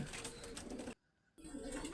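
Breeding pigeons in a loft coo close by in soft repeated calls that run in two stretches with a short break of silence between them, with no one talking.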